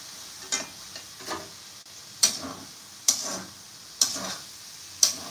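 Spices and ground paste (coriander, cumin and turmeric powders with ginger, onion and garlic paste) fry in a pan for a Bengali potol kalia, with a low sizzle and about six sharp spoon scrapes at steady intervals, close and alone.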